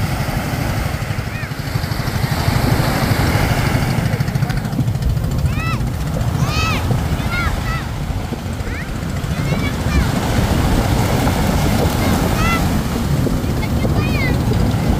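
A small outrigger boat (bangka) has its engine running with a loud, steady, rough drone close by, mixed with wind buffeting and water noise, while people talk over it in short bursts.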